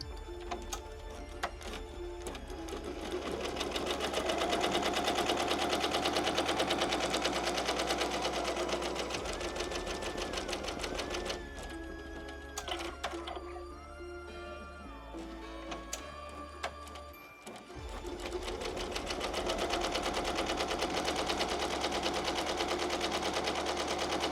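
A home sewing machine runs steadily, stitching an appliqué onto a T-shirt, its fast mechanical hum and rattling needle continuous and close, dipping briefly mid-run before resuming.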